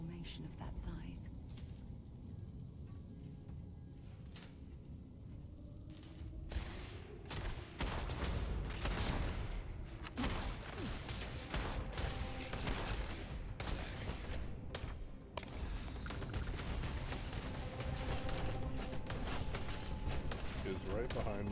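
Bursts of gunfire from an enemy shooting the player in the Starfield video game, dense crackling shots layered over a continuous loud game mix with music and effects, lasting throughout.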